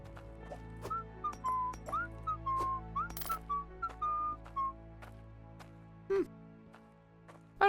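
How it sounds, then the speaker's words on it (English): A character in the Hydroneer video game whistles a short melodic tune of rising and falling notes, clear and close, with faint game clicks and ambience behind it. "I don't think I've ever heard them whistle before."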